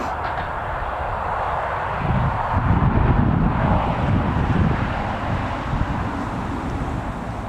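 An Emirates airliner on pushback at Newcastle Airport gives a steady distant engine rumble and whine, mixed with wind buffeting the microphone, swelling slightly midway and then holding even.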